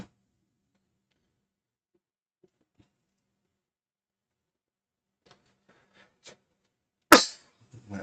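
A single sharp cough rings out close to the microphone during an otherwise near-silent stretch. Only faint clicks come before it, and a smaller throat sound follows.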